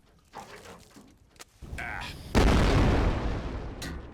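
A gas can explodes in the POSTAL video game: after some quieter sounds, a sudden loud blast hits and is followed by a sustained roar of fire.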